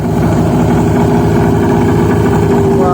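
A 1980 Yamaha XJ650 motorcycle engine runs loud and close at a steady idle, a continuous throbbing rumble that fills the whole stretch without pause.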